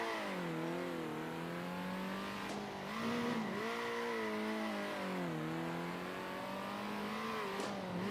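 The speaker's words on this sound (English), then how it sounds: "Those F1 cars, they're feeling faster than what we had last night." F1 race car engines in the Circuit Superstars video game whine steadily at high pitch, rising and falling as the cars shift and accelerate, with faint tire noise and no talk.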